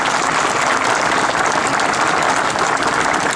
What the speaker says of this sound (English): you can give an applause to that for our president